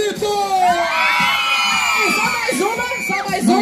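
A group of children shouts and cheers together during a tug of war game, a loud sustained burst of whoops and yells from a close crowd.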